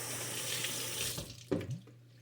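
Tap water runs into a kitchen sink while pork ribs are washed, a steady close stream that thins toward the end, with a couple of brief splashes and clunks as the meat is handled.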